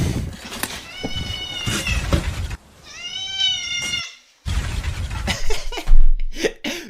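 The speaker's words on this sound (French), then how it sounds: "j'avais mis un bruit de chat" A cat meow sound effect, loud and drawn-out, set between stretches of busy, clattering noise and voices.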